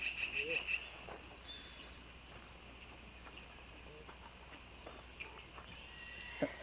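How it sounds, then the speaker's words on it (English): Horse at Dunrovin Ranch among visiting school kids, faint snorts and hoof movement against a quiet outdoor backdrop of crickets and chirps, with people talking nearby. "Now that's my horse, Crow."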